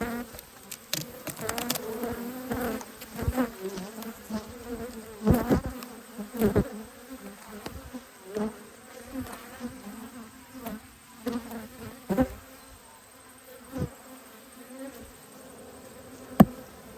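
Honeybees buzzing at an Australian hive on a cold day, a steady close insect drone with scattered louder passes of individual bees near the ear.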